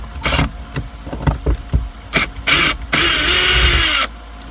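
Power drill driving a Torx bit to remove a screw from a Lexus IS car's side mirror, heard in several short whirring bursts and then one longer sustained run close by.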